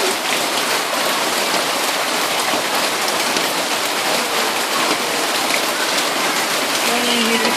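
Heavy rain pours outdoors during a baby's first bath in it, a dense, loud, unbroken hiss of drops striking surfaces that fills the whole clip, with voices faintly beneath it.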